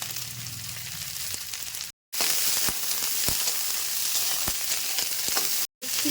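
Beans, capsicum, carrots and green chillies tipped into a hot pan for sago pulao, setting off a loud, close, continuous sizzle, cut by two short silent gaps.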